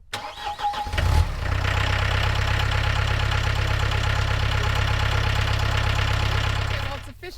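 A warmed-up tractor engine runs at a steady, loud idle close by after a brief starting burst, droning low and constant before cutting off near the end.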